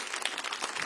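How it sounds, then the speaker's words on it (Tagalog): A church congregation applauds in a dense, steady burst of clapping from many hands, close and continuous for under a second. "palakpakan natin ang Panginoon. Come on, palakpak yan para sa Diyos."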